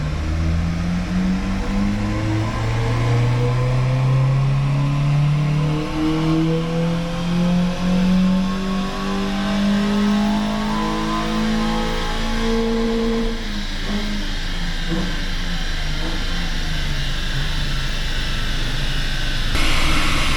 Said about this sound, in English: Fourth gear power run.